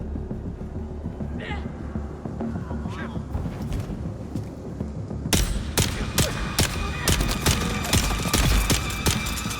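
Gunfire in the Dune: Awakening video game breaks out after a stretch of low rumbling ambience, a run of sharp shots that grows denser toward the end while a voice talks over the game.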